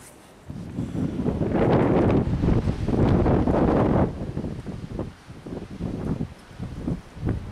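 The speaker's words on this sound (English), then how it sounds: "You can hear the wind, the trees." Wind gusts through pine trees outdoors at dusk, a broad rushing roar that swells for a few seconds and then eases into softer, uneven rustling, heard close with some buffeting on the microphone and no talking.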